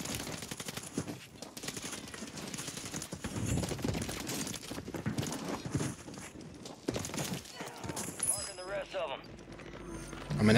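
Horse hooves clip-clop in a Rebirth Island video game match, mixed with bursts of gunfire, under nearly constant speech.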